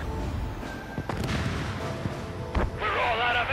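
Gunfire and heavy booms erupt in the Ace Combat 7 combat flight game: scattered blasts and sharp cracks over a rumbling low roar, then a brighter burst of noise near the end, with faint voices mixed in.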